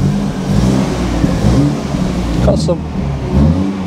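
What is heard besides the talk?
BMW 220i M Sport engine running and revving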